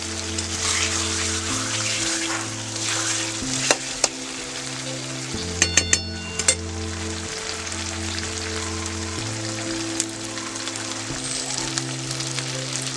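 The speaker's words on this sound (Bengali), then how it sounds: "জলটা দিয়ে দিলাম। আমি কিন্তু গরম জল দিচ্ছি।" Hot water poured into pork frying in a pot on a clay stove sets off a steady, close sizzle and bubbling that lasts throughout, with a few sharp clinks and a low musical backing underneath.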